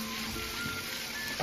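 Fish frying in a pan in a home kitchen in the countryside, a steady close sizzle running throughout with no talk over it.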